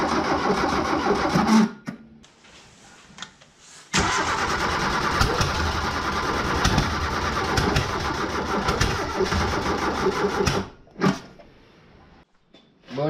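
A barn-find Volkswagen Golf MK3 Colour Concept cranked on the starter and revved, loud sustained engine roar broken by short pauses and cut-offs, alone with no voices.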